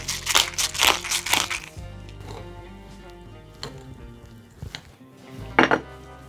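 Minced chicken stirred together with mushrooms, parsley and cheese in a bowl, with loud clinks and scrapes of a utensil against the dish at first, then quieter shuffling and a sharp clatter near the end.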